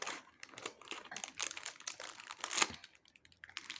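Close, busy crinkling and rustling of a plastic bag on a toy being cut open, with quick snipping and tearing bursts running continuously for a few seconds.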